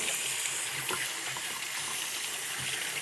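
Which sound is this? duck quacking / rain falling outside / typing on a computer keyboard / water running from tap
water running from tap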